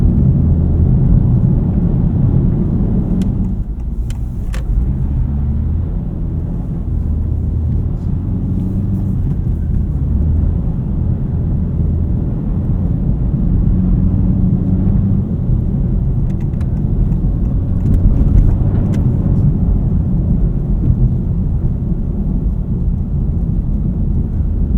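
A Honda Civic Type R FL5 drives on winter roads, a steady loud low engine and road rumble filling the cabin throughout, with faint clicks overhead and no talking.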